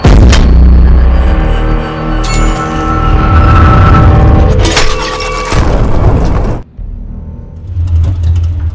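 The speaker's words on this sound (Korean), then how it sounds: "뒤이어 니콜라이와 예거가 서로를 향해 동시에 발포하죠." Soviet and German Panther tanks trade cannon fire in a World War II war film: heavy booms and crashing impacts over a constant loud rumble, with sudden breaks and no speech.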